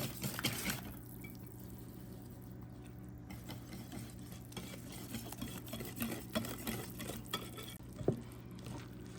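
Cornbread batter being mixed in a bowl, quiet soft wet stirring and scraping with small clicks and one sharper knock near the end, close and low in level, with no talk.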